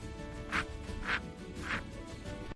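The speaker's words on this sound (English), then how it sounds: "D for duck." Three short, evenly spaced duck quacks, loud and close, each about half a second apart over a soft background.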